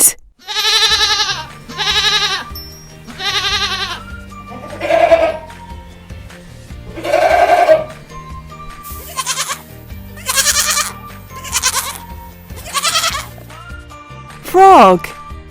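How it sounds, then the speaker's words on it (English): A goat bleats repeatedly in loud, wavering cries, one after another at a steady pace, close by and alone. "Goat."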